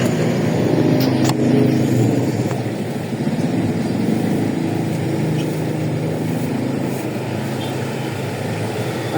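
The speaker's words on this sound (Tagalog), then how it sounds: "Traffic!" Road traffic rumbles continuously, a dense low drone of passing vehicles with occasional brief clicks and engine swells, fairly loud and steady throughout.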